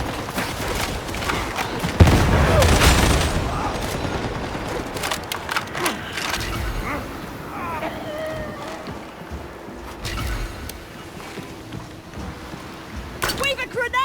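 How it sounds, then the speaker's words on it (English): A grenade blast and scattered gunfire in Warhammer 40K Darktide, with a loud thump early on followed by lighter shots and clatter, all mixed under frequent shouted dialogue. "Throw a grenade!"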